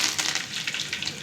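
Mustard seeds hit hot oil in a pan for a beetroot masala curry, giving a dense, close crackling sizzle with rapid popping that stays loud throughout.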